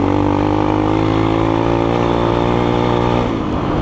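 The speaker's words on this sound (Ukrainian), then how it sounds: "Він твердить, газує, але аж так не їде" A GEON X-Road 250 PRO motorcycle engine drones loudly and continuously at close range while riding, a sustained buzzy roar with steady pitch that eases slightly near the end.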